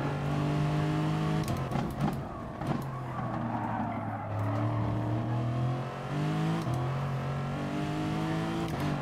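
Race car engine in the video game Gran Turismo Sport, a loud, steady high-revving drone that climbs and drops through gear changes and corner lifts, with brief tyre skids, heard alone without talk.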